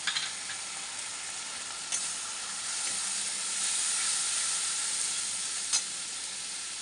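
Coriander, turmeric, Kashmiri chili powder and green chili frying in hot oil make a steady, close sizzle with a few sharp pops and crackles rising out of it.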